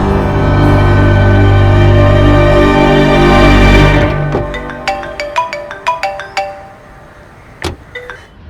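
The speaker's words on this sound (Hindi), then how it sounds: "ठीक है, देव को कॉल करती हूँ" A loud, steady synthetic ringtone-like tone plays for about four seconds, then gives way to a string of short, bright electronic blips and chimes that trail off as a phone call is placed.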